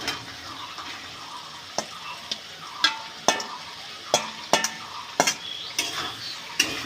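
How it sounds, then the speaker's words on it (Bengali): Boiled yam stalks and potatoes go into a pan and are stir-fried, with a soft background sizzle and a series of sharp, irregular spatula scrapes and taps close by. No one speaks. "ওলের ডাটা আর আলু এটা সেদ্ধ করে তুলে রেখেছিলাম এটা দিয়ে দেবো"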